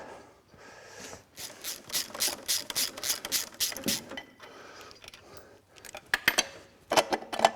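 A hand ratchet clicks in quick, close bursts of rapid pawl ticks while removing drive shaft couplings during an engine and gearbox refit, with pauses between strokes and a final short flurry.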